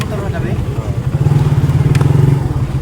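A motorcycle engine runs close by with a loud, steady rhythmic putter that grows more pronounced partway through, while people talk over it.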